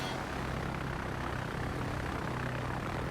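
Aircraft flying over an island in World of Warships, a steady droning engine roar, broadband and unbroken, moderately loud and close.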